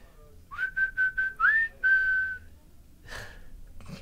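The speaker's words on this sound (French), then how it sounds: "ça m'est arrivé déjà de siffler en public" A person whistles a short melodic phrase of several clear notes, close by, followed by a breath and faint rustling.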